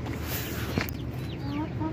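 An aseel hen clucks close by in a short burst of throaty notes over steady outdoor background noise.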